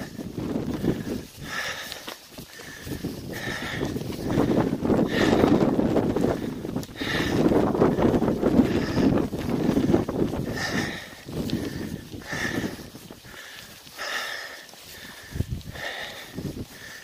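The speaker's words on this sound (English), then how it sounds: "That wind is terrible." Strong gusty wind buffets the microphone on an Appalachian Trail mountain path, surging and easing in loud rushing waves with a few faint sniffs.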